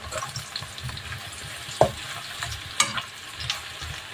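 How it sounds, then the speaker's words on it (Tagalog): Eggplant frying in a pan with oil for pork and eggplant, a quiet steady sizzle running throughout, broken by a couple of sharp clinks and scrapes as the pieces are moved. "ipiprito muna natin itong talong"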